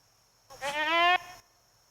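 A single sheep bleats once in the video game Project Zomboid, a short wavering call heard clearly and alone against near silence.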